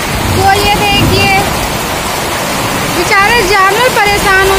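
Heavy rain pours down in a loud, continuous wash, while someone speaks over it throughout.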